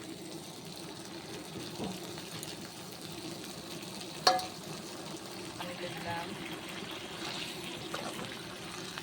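Ginger, cumin, chili, onion and garlic paste frying for chili chicken gives a soft, steady low sizzle, with light stirring and one brief sharp clink near the middle.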